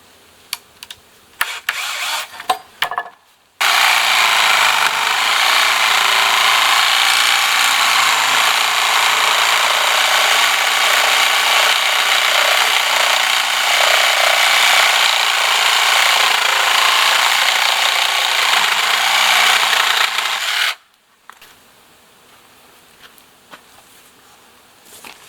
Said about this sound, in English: I'm going to cut it off, splice into it, and then make this side look like that side.